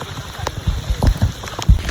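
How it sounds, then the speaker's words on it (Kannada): Rain falls during a forest trek on the Nethravathi trail in Karnataka, a close patter with scattered heavier drops and low thumps, mixed with faint voices of people nearby. "ನಾವು ಬಂದ್ವಿ ಅಂತ ಮಳೆ ಬಂದೈತೆ."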